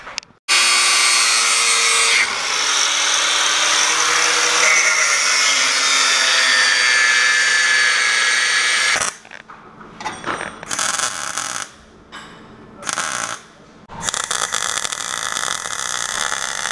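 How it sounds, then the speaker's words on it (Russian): A power tool cuts flanges off a metal pipe with a loud, close, continuous grinding whine for about nine seconds, then breaks into shorter bursts separated by brief pauses, with no one talking. "Сейчас вырежем фланцы и варим кусок трубы."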